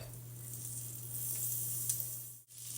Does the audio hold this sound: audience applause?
no